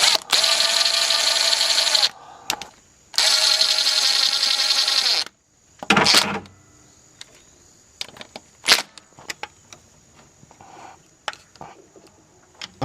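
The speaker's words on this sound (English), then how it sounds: "I'm just using my impact to get them tight or close" An impact driver tightens the carburetor bolts on a 1970s VW trike in two loud, sustained whirring bursts, each about two seconds long, followed by a sharp short burst and scattered clicks and clatter of tools nearby.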